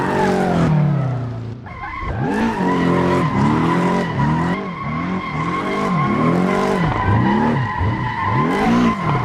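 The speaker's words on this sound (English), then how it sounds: "With 350 horsepower, it certainly can drift." A Porsche 718 Boxster with 350 horsepower drifts in the Assetto Corsa racing game, with a loud, continuous engine whine rising and falling through repeated revs and a long tire squeal over it.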